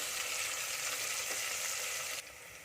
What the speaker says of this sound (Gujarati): ડુંગળીને આપણે સાતરી લેશું। એને બહુ નથી સાતરવાની, બસ થોડી ગોલ્ડન થાય ત્યાં સુધી સાતરી લેશું આપણે।